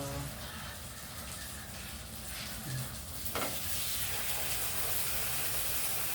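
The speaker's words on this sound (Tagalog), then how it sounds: "Nagpiprito tayo." Continuous hissing sizzle of milkfish (daing na bangus) frying in oil, quiet at first and then growing brighter and more intense halfway through.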